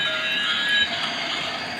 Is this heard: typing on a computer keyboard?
no